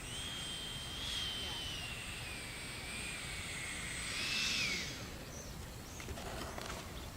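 An E-Flite 70mm F-16 RC electric ducted-fan jet flies with a steady, thin whine that swells briefly as the throttle is fed in, heard at a distance over outdoor ambience, with a voice talking.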